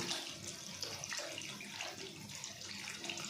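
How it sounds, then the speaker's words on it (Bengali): Water pours steadily into a pot of cooking daliya khichdi with dal, a continuous soft splashing rush lasting a few seconds. "আর একটু জল দিতে হবে"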